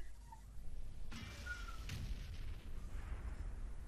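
An M40/M43 artillery gun fires in World of Tanks with a single heavy boom near the middle, followed by a rumbling low tail and fainter distant blasts.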